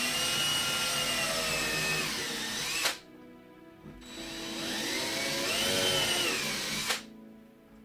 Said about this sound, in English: I want to be careful I don't drill into my granite